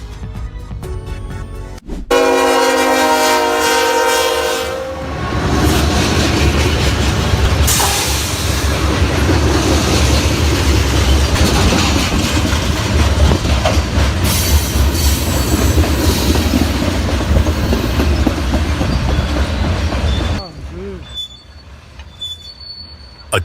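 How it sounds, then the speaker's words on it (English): A CSX coal freight train crosses a rail junction, loud and close, with rumbling wagons, rhythmic clickety-clack and squealing wheels that fade near the end. "The CSX coil train just crossed the Shelby Junction"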